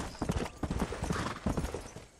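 Horse hooves clip-clop at a steady walking rhythm in the Red Dead Redemption video game, a close, moderately loud series of about a dozen hoof strikes with no talking over them.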